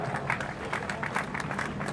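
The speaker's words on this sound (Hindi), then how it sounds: "जोरदार तालियां" An audience claps for students called up at a school award ceremony, a brief dense burst of applause with crowd murmur, moderately loud.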